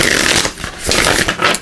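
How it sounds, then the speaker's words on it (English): Oracle cards get a quick shuffle, a close, brisk papery riffling and rustling that swells and dips over a second or two. "Just going to do just a quick shuffle"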